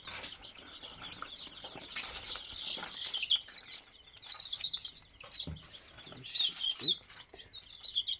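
Young native chicks chirp and peep in repeated high, short bursts, with scattered rustles and light clicks in a small enclosure, fairly close and moderately loud throughout.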